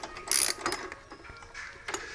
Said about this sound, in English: what I'm undoing right now is a nut that holds the lever going from the brake pedal to